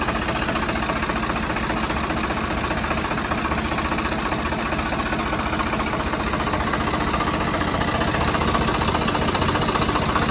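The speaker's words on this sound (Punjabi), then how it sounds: "ਟਰੈਕਟਰ ਦੀ ਇੱਕ ਵਾਰ ਆਵਾਜ਼ ਵੀ ਚੈੱਕ ਕਰਕੇ ਦਿਖਾਉਂਦੇ ਹਾਂ ਸਟਾਰਟ ਕਰਕੇ" Tractor engine, a 855 or 744 model, idling in neutral after a start, giving a loud, steady low rumble with an even knocking pulse throughout and no speech over it.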